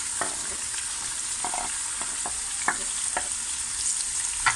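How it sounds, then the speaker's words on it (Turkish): Mushrooms sautéing in about two tablespoons of margarine in a pan for a creamy mushroom soup, giving a steady close sizzle with scattered stirring clicks and scrapes throughout, no talking. "Şimdi de mantarlarımızı ilave ediyoruz."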